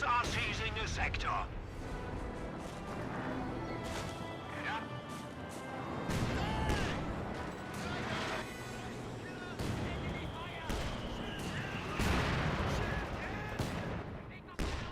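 Battle noise from the Company of Heroes 2 video game, with repeated sharp gunfire cracks and heavier mortar impact booms scattered through the clip, mixed under ongoing talk.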